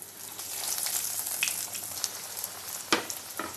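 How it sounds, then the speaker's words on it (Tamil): Chicken popsicles deep-fry in hot oil in a pan, giving a steady broadband sizzle with a few sharper crackles and pops, moderately close and without any voices. "இனி இதை தவாயில் எண்ணெய் ஊற்றி இது போட்டு பொரித்து எடுக்கணும்"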